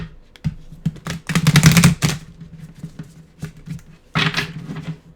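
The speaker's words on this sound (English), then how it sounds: "These big decks are so hard to shuffle." A large deck of playing cards is shuffled up close, with a long rapid riffling flutter followed by a shorter second burst and some quieter handling taps between, over a faint steady hum.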